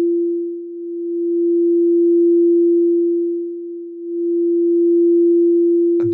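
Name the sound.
343 Hz crystal singing bowl tone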